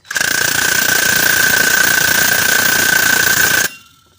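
An impact wrench drives a 30 mm socket to tighten a drive belt tensioner bolt, giving one loud, continuous rattling burst that lasts several seconds and then stops abruptly.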